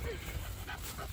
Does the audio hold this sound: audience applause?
no